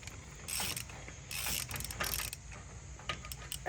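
Rear brake adjuster on a Ford F350 ratcheting as its nut is backed off, giving bursts of rapid mechanical clicking with brief pauses between them, close and moderately loud.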